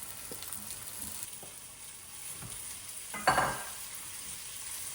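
Onion and spice masala frying in oil in a pan as a potato and carrot side dish cooks, a soft steady sizzle with light stirring scrapes and one sharper clatter near the end.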